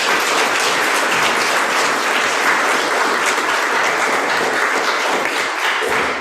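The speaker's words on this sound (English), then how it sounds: "another round of applause for our search committee" A congregation's round of applause for a church search committee at St. Luke's on the Lake in Austin, a dense, steady wash of many hands clapping at full volume that carries on unbroken throughout.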